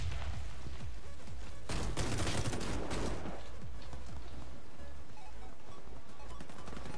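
Rapid gunfire from a Fabarm S.A.T. 8 Pro Gold shotgun in the shooter game Warface, on the Hangar map, with a dense burst of shots around the middle amid steady game noise, no talk.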